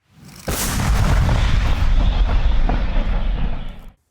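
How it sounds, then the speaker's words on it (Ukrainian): A single loud cannon blast from an old Soviet T-64 tank near Bakhmut erupts, followed by a long rumbling roar that sustains for several seconds before cutting off. "українські армійці стріляють по окупантах з ще радянського танку Т-64"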